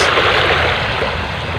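Loud rushing ocean waves with big swells and a strong current while fishing, a broad continuous wash of surf and water noise, steady and close with no voices.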